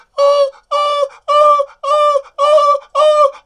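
A voice imitates a dog's insistent whining, six evenly spaced, loud, high-pitched electronic-sounding beeps with short gaps between them.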